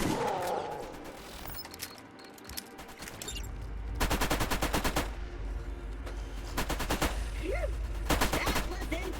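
Gunfire in the video game Borderlands, long rapid automatic bursts rattling loudly against a game soundtrack, with mechanical reload clicks and a brief pause between volleys.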